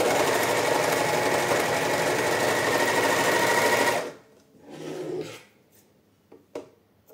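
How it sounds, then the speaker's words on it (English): A sewing machine stitches a kids' tank top's armhole and neck pieces in a loud, continuous whirring run of about four seconds, then stops, followed by a few faint handling sounds and soft clicks. "First I sew armhole and neck pieces."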